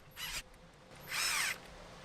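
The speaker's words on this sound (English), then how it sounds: "I've got my trusty little screwdriver drill" A cordless screwdriver drill tightens a Jubilee clip during setup of a Cadac Carri Chef 2 barbecue, giving two close, high whirring bursts, a short one and then a longer one, over a quiet background.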